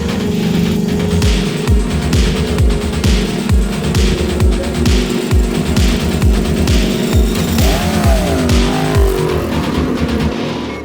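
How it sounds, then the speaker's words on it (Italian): Motorcycle engine on a race track, started and revved in sharp repeated bursts, loud and close, then settling into a rising and falling rev near the end. "vai, accendete la moto"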